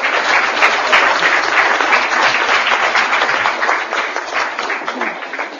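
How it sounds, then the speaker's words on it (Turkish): An audience applauds Uncle Tahsin in a loud, sustained burst of crowd clapping. It stays dense and even for over five seconds and fades slightly near the end, with no talk over it. "Alkışlıyoruz Tahsin amcayı."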